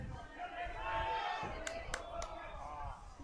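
A crowd at a strongman competition cheers and chants rhythmically for an athlete lifting stones, a roaring mass of voices with a few sharp claps or thuds.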